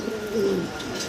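A black checker exhibition pair of fancy pigeons gives a soft, brief coo, a low warbling call at close range over faint background noise.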